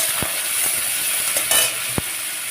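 Okra, prawns and onion fry together in a pan with a close, steady sizzle broken by a few sharp stirring knocks and scrapes.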